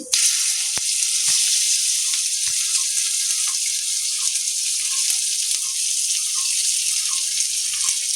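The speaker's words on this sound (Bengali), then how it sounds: "পেঁয়াজ কুচিটা দিয়ে একটু হালকা ভাজা ভাজা করে নেব" Chopped onion and nigella seeds fry in hot oil in a pan for a fish curry, giving a loud, steady sizzle with soft clicks and scrapes of stirring, close up and alone.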